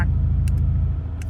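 A modified Lexus IS F V8 holds a steady deep rumble at around 1,500 RPM, loud and close, with a throbbing low-pitched exhaust tone.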